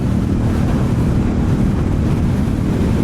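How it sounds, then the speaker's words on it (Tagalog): Strong, steady wind from the tail of a typhoon buffeting the microphone with a constant low roar throughout, loud and close, with no one speaking. "So, grabing hangin."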